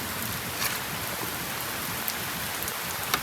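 Steady rain pours and spatters around a parked Honda ADV 160 scooter, a dense, close hiss of drops and splashing water with a few sharper droplet hits and no voices.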